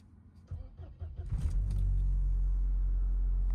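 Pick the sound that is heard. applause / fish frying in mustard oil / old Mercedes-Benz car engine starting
old Mercedes-Benz car engine starting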